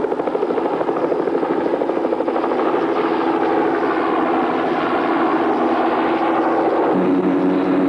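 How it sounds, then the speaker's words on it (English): A turbine-powered helicopter airlifts slung supplies and equipment from a desert base camp to a waterhole project site. Its rotor and engine make a loud, steady, throbbing roar that runs unbroken throughout, with no talk. "supplies and equipment were loaded into helicopter slings and airlifted to the waterhole project site"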